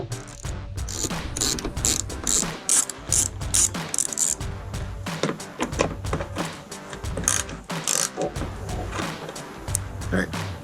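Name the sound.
socket ratchet removing grille bolts on Silverado 1500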